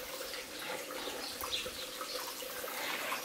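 Water runs in a steady continuous stream from a spring under a plantain tree on Donoussa, Greece, as people fill PET bottles, a broad rushing wash with faint drips and no talk.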